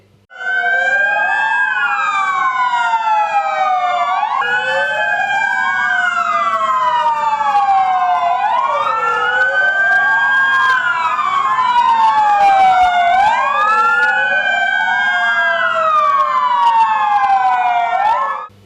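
Several fire engine sirens wail together in a slow fire brigade convoy during a fire service week event in Isparta, loud and close, overlapping rising and falling tones sustained for the whole stretch.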